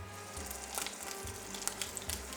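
Padron peppers blistering and frying in a single layer in a pan, a steady close sizzle with soft crackling pops and no talk.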